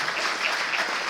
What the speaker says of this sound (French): je voudrais qu'on les remercie chaleureusement en les applaudissant